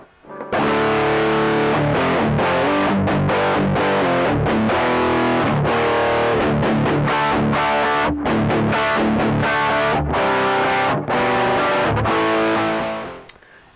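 Heavily distorted electric guitar chords through a Harley Benton RockPlug headphone amp with drive all the way up, played continuously, loud and close, with a gritty, fuzzy overdrive tone and no pauses.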